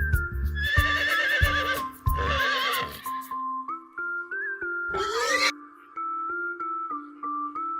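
A horse gives a long, loud, quavering neigh early on, then a shorter whinny later, over a quiet background melody.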